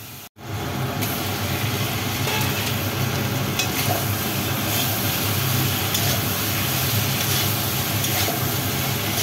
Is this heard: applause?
no